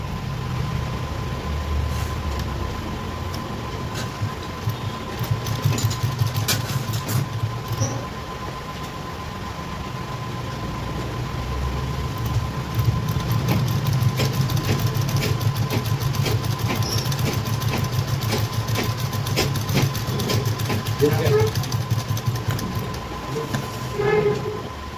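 A sewing machine stitches darts into gown fabric for an umbrella gown, its motor humming in close, steady runs with a short pause partway through and faint clicks on top, with no talking.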